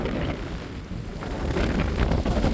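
Strong wind roars across a winter lake while waves crash and spray on the shore, a loud, steady, buffeting rush with heavy microphone wind noise throughout.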